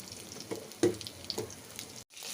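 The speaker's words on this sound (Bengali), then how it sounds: "মাছও বেজে নিচ্ছি" Fish frying in hot oil in a home kitchen, a moderate sizzle with scattered utensil clatter and a brief cut-out near the end.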